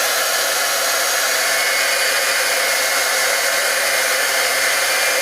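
A heat tool blows hot air to dry embossing powder on top of a Wacom tablet, giving a loud, constant whooshing roar with no pauses.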